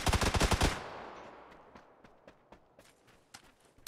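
Rapid burst of automatic gunfire in PUBG, loud and close, followed by scattered single shots and footstep-like thuds spaced irregularly as the firing dies away.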